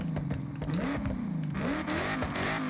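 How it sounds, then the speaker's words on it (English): A Ford Mustang Dark Horse with race exhaust in a video game revs up and down with a rising and falling exhaust note, loud and close, with pitch sweeps like gear changes during a race. "The race exhaust isn't that bad, for once."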